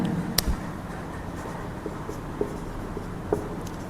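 A solution is written by hand on a classroom board in light, scattered scratches and taps, including one sharp knock near the start, all faint and close against a quiet room with no talking.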